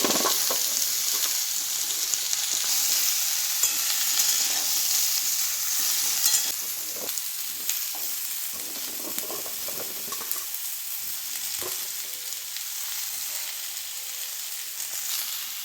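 Mixed vegetables for a lightly spiced vegetarian curry frying in hot oil: a dense, steady sizzle runs close and loud throughout, easing slightly partway, with occasional stirring scrapes and clinks against the pan.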